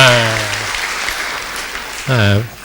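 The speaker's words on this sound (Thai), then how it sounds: "ขอเสียงปรบมือดังให้ท่านด้วยครับ" Brief audience applause at a Thai seminar on natural disaster prevention, a soft rustling patch of clapping sandwiched between a man's spoken lines.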